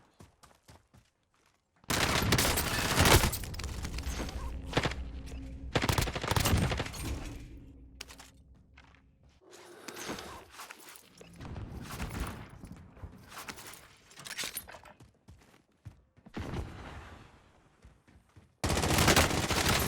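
Rapid automatic gunfire trades back and forth in a Call of Duty Warzone firefight, with loud sustained bursts broken by short pauses and one final burst at the end.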